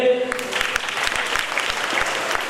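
Audience applause at a religious discourse event as a woman walks toward the stage to be honoured, a steady dense clapping throughout, fairly close and full, with some voices mixed in.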